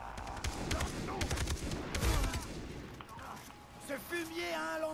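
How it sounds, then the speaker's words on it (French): Bursts of automatic gunfire from enemies in the shooter game Far Cry 3, loud rapid volleys crowding the first half and then thinning out into scattered electronic game sounds, with players talking over the action. "C'est qu'il me tire dessus."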